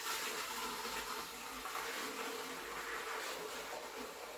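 Apple juice sugar wash poured into a moonshine still, a continuous close splashing pour of liquid lasting several seconds with no talking.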